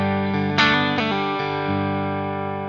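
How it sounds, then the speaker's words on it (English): An electric guitar played clean without effects sounds a sustained chord that rings and slowly decays, with a few picked notes struck over it, close and fairly loud. "here is what the guitar sounds like by itself"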